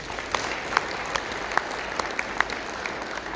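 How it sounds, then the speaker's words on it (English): Scattered applause from attendees at a regional staff stand-up meeting, a soft, distant patter of clapping with a few sharper claps standing out. "let's get a round of applause to all of those folks"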